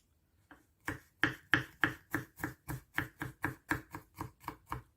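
A knife chops food into small pieces for a Thai basil beef stir-fry, about fourteen crisp, evenly spaced strikes on a cutting board after a soft first tap, steady and close with no talking.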